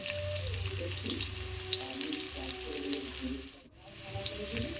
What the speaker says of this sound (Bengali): তারপর এগুলোকে ভালো করে ভেজে নেব।